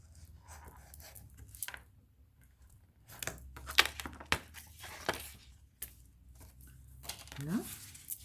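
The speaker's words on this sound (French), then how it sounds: "on n'a plus qu'à venir couper" Paper being cut for a scrapbook photo album: a series of quiet, uneven snips and rustles, close and faint, with brief low murmurs and handling noise between the cuts.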